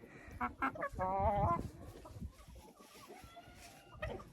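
Chickens cluck inside a greenhouse on a hot day, with a loud burst of squawking clucks early on, then scattered softer clucks and rustling nearby.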